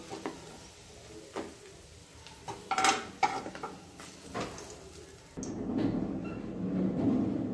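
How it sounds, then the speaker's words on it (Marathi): Fried onions, cooked until crisp, are lifted out of a hot kadhai with a metal utensil for an egg biryani, giving scattered scraping clinks and taps against the pan before a steadier oily sizzle takes over. "कढईमधून हा कांदा बाजूला काढून घेत आहे।"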